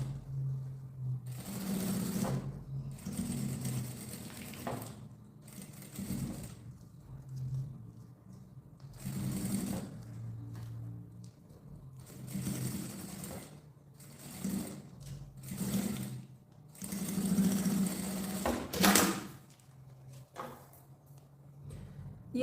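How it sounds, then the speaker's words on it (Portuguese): Sewing machine stitching folded bias binding onto the edge of a fabric oral-hygiene pouch, running in several steady bursts separated by short pauses, close and fairly quiet with no talking. "Aí aqui a gente dobra o viés e faz a costura rebatendo."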